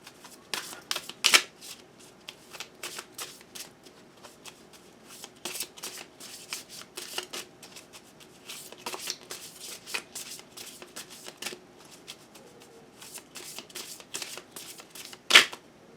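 Tarot cards are shuffled by hand in repeated quick riffling bursts, soft crisp slaps and flutters recurring irregularly, with one sharper snap near the end and a quiet background.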